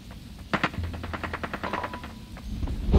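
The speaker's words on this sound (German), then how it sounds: "weiß ich auch, warum Josi nicht orten kann, wo die Schüsse herkommen" Rapid bursts of video game gunfire in Ring of Elysium crackle in a quick rhythmic string, sharp and fairly close, then fade into a lower background rumble.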